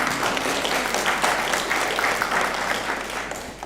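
Steady audience applause at an African curriculum association conference in Nairobi, Kenya, a dense, even crowd clapping that stays loud and sustained across the whole stretch with no speech over it.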